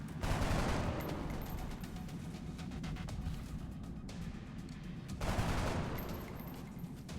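Video game gunfire in XCOM Long War: two loud bursts of shots, one at the start and one near the five-second mark, with a steady rumble of game ambience between them and no talk.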